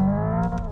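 The simulated engine sound of a Hyundai Ioniq 5 N blips on a downshift, a short loud synthetic engine note, close and alone, that rises briefly and fades within a fraction of a second.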